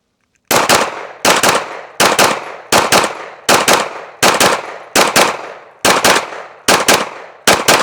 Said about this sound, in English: We're gonna get roughly 30 rounds on target.